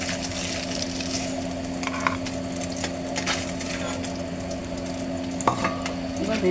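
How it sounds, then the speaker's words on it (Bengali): Cut eggplant pieces frying in hot oil in a pan, a steady close sizzle with occasional stirring clinks and scrapes, no talking. "এবার ওই তেলের মধ্যে বেগুন দেওয়া হলো, কাটা বেগুনটা দিয়ে দেওয়া হলো।"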